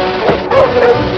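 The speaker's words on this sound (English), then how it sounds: "Larson, Warner, help me harness my dogs." Sled dogs bark and yip in a short burst in a 1953 serial film, several yelps heard up close over a busy, noisy background.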